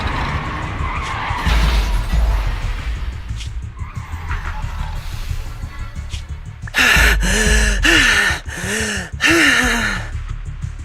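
In the video game Zenless Zone Zero, a vehicle skids with a long, grinding rush of noise and engine rumble, followed by loud, close gasping vocal bursts from game characters.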